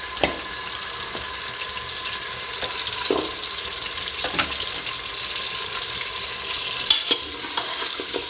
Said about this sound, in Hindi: बीफ के जो बड़े बड़े टुकड़े गोश्त के ये है मैं इसमें शामिल कर दूँगी और इसको मैं अच्छी तरह से इसमें फ्राई करूँगी